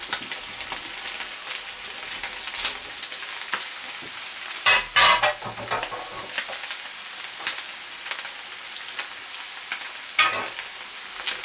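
Steady sizzling of sliced green pepper rings frying in a pan with potatoes, with occasional louder bursts of crackle and stirring scrapes; no voices.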